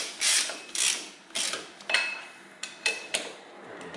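Bolts on a 1990–2002 Toyota Camry rear hub are tightened by hand with a ratchet in short bursts of metallic clicking, about eight quick, close strokes separated by brief pauses, loud and clear with no talking.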